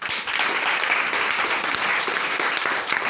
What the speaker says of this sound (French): Je voudrais même qu'on applaudisse pour lui.